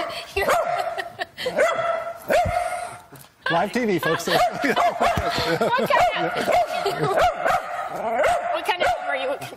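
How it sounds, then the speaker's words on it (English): A dog barks and yips repeatedly in short bursts during a live TV news segment, close and loud, mixed with people talking and laughing around it. "Yes, he's barking because he can see himself,"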